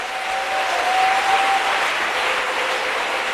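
A church congregation applauds during a Sunday service, a steady, loud wash of clapping hands that carries on evenly without pause.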